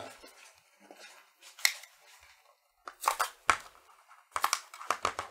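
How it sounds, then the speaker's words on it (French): Scissors snipping open a Japanese Pokémon booster pack, with crisp, close cuts and crinkling foil, a few isolated clips followed by quick bursts of snipping with quiet gaps in between. "On va prendre les ciseaux pour cette fois."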